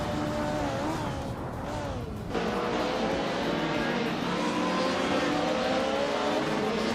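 Racing car engines in a video game race led by a 1990 Mercedes 190e Evo 2, whining and revving continuously up close with gear changes and a brief tire squeal partway through.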